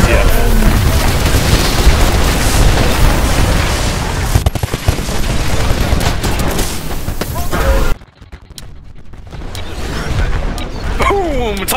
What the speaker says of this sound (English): Boom! Titanfall!